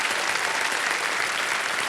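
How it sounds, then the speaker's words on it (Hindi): Studio audience applause on a television quiz show, steady dense clapping welcoming a contestant, loud and even throughout with no talk over it. "तालियों के साथ इनका स्वागत करते हैं।"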